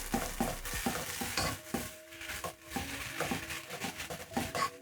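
A beef stock cube is stirred into a peas and minced meat stew in a pot, with repeated close scraping and clacking of a spoon over a low, steady simmer; nobody speaks.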